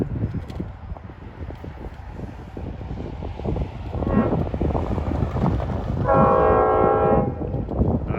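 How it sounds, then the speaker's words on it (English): A train rumbles past, then a loud, sustained multi-tone K5LLA air horn on a D30AC diesel locomotive blasts for about a second, nearby. "Should have D30AC 409 with a nice K5 LLA horn on it."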